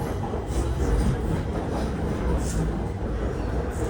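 Inside a passenger car of a Bangkok MRT Purple Line train in motion, a steady, loud rumbling roar of wheels and carriage fills the space, with a faint hiss on top and no talk.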